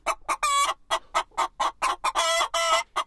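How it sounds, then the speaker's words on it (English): Chickens cluck on a farm in a quick run of short, bright, close calls with brief gaps between them, the bursts rising and falling in loudness, with no voices or other sounds mixed in. "Did you say there are chickens on the farm?"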